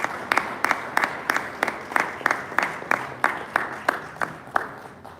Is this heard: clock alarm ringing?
no